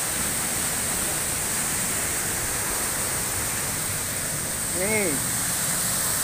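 Lungkuk waterfall in Indonesia roars in a constant, broad rush of falling water, dense and unbroken throughout, with a brief voice speaking over it near the end.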